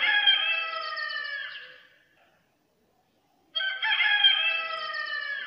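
A hen clucks and crows in two loud, close, drawn-out calls separated by a couple of seconds of silence, with no talking.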